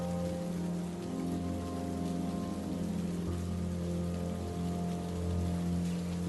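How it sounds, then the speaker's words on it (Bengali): Steady rain pours through a stormy night as a cartoon sound effect, a dense and continuous wash of drops hitting surfaces with no voices. "এই ঝড় বৃষ্টির রাতে আশেপাশে একটা মানুষও চোখে পড়ছে না"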